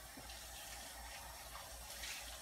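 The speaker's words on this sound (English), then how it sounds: "So then we can take all of the cups and we can wash each one." Tap water running steadily into a sink while church communion cups are rinsed after Mass, a constant close, even gush with no talk.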